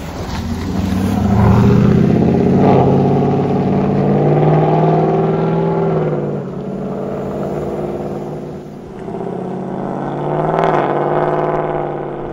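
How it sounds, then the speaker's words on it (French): Porsche Cayenne S exhaust revving, a loud steady engine drone with swells in pitch and volume, a dip near nine seconds, then rising again. "La ligne d'échappement, c'est fait."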